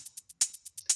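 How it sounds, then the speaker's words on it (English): Crisp, bright hi-hat ticks repeat in a quick steady rhythm, with two louder accented hits standing out among the softer ones. "like double hi-hats to enhance"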